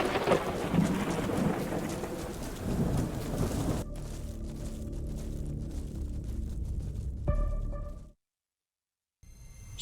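Thunderstorm in the military tactics game Black One: heavy steady rain with rolling thunder fills the first half, then a quieter rumbling downpour continues before cutting to a brief silence and a faint return.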